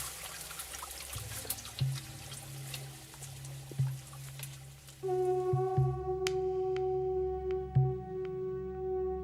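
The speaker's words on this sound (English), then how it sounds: "They caulk the walls with ferns, but that doesn't keep the water from flowing in." Water runs and pours into a mud-walled gem mining pit caulked with ferns, a continuous trickling flow with irregular drips and splashes, the flow turning thinner and more tonal partway through.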